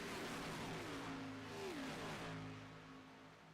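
Race car engines in a sim racing game drone steadily, their pitch sliding down and back up as cars pass, fairly close and continuous.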